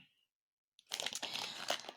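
Plastic zip bag from an embroidery kit crinkles in a short close burst of rustling after a brief silence, quiet and alone.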